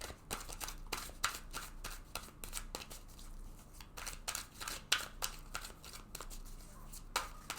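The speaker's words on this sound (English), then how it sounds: "So I'm going to go ahead now and shuffle this deck several times." A tarot deck is shuffled several times, giving quick papery riffles and flutters with soft slaps in irregular bursts, close and fairly quiet.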